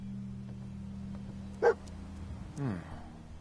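Dogmeat, the dog companion in the video game Fallout 4, gives one short, sharp bark, then a brief rising whine a second later, both moderately close over a steady low game hum.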